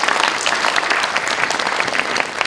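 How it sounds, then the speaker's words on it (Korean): An audience at a 2025 youth village project briefing session claps in steady, dense applause that holds at an even level throughout. "다시 한번 큰 박수 부탁드립니다"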